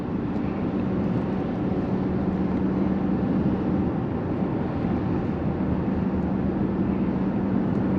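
A 2023 Nissan Qashqai cruising on a highway, heard from inside as a steady, loud, unbroken drone of road and wind noise that holds constant throughout, with no talking.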